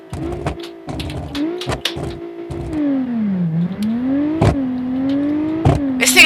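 Car engine revving hard while drifting in a car-building racing video game. The drone swoops up and down in pitch, broken by sharp clicks and clatters.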